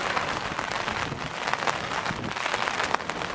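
Heavy rain driven by strong wind lashes a seaside station platform in an industrial area, a dense, loud patter of drops beating on surfaces close by, with no talking.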